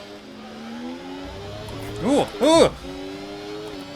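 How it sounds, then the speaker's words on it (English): Ferrari Formula 1 car in the F1 24 racing game at the US Grand Prix, engine revs spiking twice in quick sharp bursts as the rear wheels spin, over a steady engine drone, with a brief exclamation from a voice. "you could hear him get the wheel spin there, spike the revs in that Ferrari"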